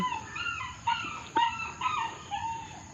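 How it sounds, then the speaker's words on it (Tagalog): A dog whines and whimpers in short high-pitched bursts, fairly close, several plaintive cries in a row with no talking. "piyapiyagak na naman yung aming aso"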